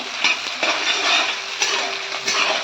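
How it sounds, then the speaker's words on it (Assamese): Onion and bay leaf frying in hot oil in a pan, a steady close broadband sizzle with light stirring scrapes and utensil clinks throughout, no voices. "তেলখিনি গৰম হোৱাৰ পিছত মই পিঁয়াজ তেজপাত দি দিলোঁ তেলত।"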